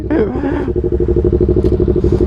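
A green Kawasaki Z650 motorcycle idles nearby with a steady, throbbing engine pulse, and a short burst of talk comes at the start.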